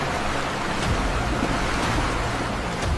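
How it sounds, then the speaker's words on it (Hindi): Stormy open sea with heavy waves surging and crashing under strong, steady wind, a loud continuous roar with periodic swells and no voices. "तेज हवाएं, लहरों का शोर"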